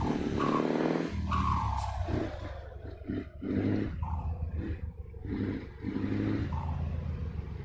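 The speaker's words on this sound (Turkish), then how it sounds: "bol bol ee, sesler, egzoz sesleri duyabilirsiniz." Loud, continuous roar of a Scania R700 truck with an aftermarket Kurt exhaust, hauling a heavy loader on dirt and snowy roads, with the engine note rising and falling steadily throughout and no talk.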